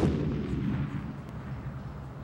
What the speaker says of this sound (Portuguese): A forte explosão.